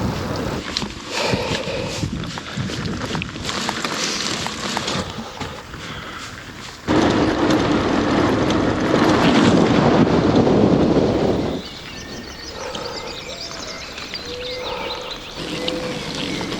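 Wind gusting across the microphone while cycling along hilltops on a long-distance ride, with loud buffeting that swells into a strong roaring gust midway before easing back to an uneven rush.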